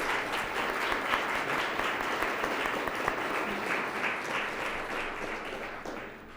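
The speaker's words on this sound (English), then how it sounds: "Let's give them another round of applause" Sustained applause from a seated audience at a civic club forum on electric and autonomous vehicles, steady dense clapping throughout that thins slightly at the very end, with no talk over it.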